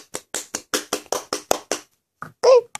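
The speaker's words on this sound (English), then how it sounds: "Applause." A single pair of hands claps about ten times in a quick, even rhythm, close and sharp, followed by a brief pause and a short vocal sound at the end.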